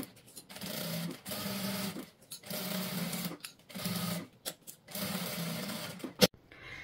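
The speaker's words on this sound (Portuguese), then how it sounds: "coloca as presilhas e faz uma costura" A sewing machine stitches the main tweed fabric of a small bag to its lining, running in several steady bursts separated by short pauses, close and clear, ending with a sharp click.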